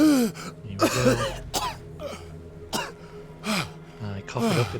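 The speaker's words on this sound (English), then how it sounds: "I cough it up, it might be a lung" A man coughs and clears his throat in several harsh, close bursts, with bits of speech between them.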